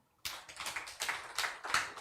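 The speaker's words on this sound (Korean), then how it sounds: "하나님께 영광의 박수" A church congregation in Daejeon claps together during a Sunday worship service, a dense burst of hand claps starting abruptly after a brief silence and swelling in uneven waves, fairly close and with no talking.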